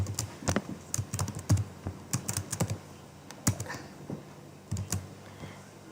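Keys on a computer keyboard are tapped in irregular bursts and pauses, giving sharp close clicks that come in quick runs and then spaced single strokes, with no voice over them.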